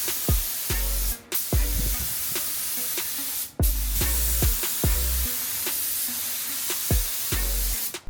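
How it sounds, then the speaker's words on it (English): Aerosol paint sprayed onto Nissan TD42 Patrol truck parts in a series of short, close hissing bursts, separated by brief pauses and repeated about ten times. "So I'm gonna have to respray those."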